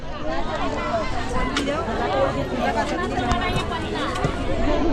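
Dense crowd chatter fills a local fish market in Konkan, many overlapping voices babbling nearby at a steady, lively level with occasional clattering.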